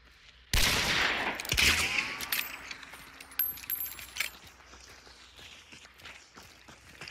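Shotgun fire in Hunt: Showdown, one loud sharp blast followed by a decaying echo, then scattered rustles, clinks and footsteps at lower level.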